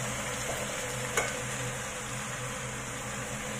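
Sweet pork belly for bao buns cooks in a pan with a soft, steady sizzle and faint stirring, plus one brief clink near the middle, quiet and close with no voices.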